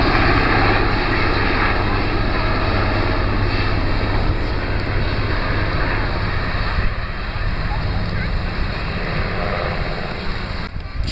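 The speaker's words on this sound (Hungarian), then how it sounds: "kérem az olasz hadsereg harci repülő szerkezetet itt a Lignanói strand fölött augusztus 19-én" An Italian military fighter jet flies over Lignano beach in August, a loud, continuous roaring rush that fills the whole clip, with beach surf and a voice faintly underneath.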